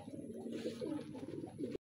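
Racing pigeons coo softly and repeatedly, close by in a quiet setting, with a few overlapping low calls.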